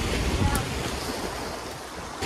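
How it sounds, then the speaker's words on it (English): Strong storm wind on the Yukon River roars steadily into the microphone, a loud, continuous rushing buffet with no pauses. "It is still super, super windy."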